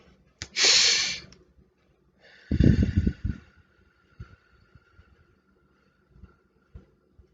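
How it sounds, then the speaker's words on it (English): A person takes slow deep breaths during a calm guided candle meditation, drawing air in through the nose and releasing it out through the mouth; two long, close breaths followed by softer, quieter exhalations and near silence. "I want you to take 3 deep breaths"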